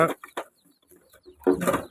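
A native country hen with about thirty chicks clucks in short, separated bursts, close by, with a louder run of clucking toward the end.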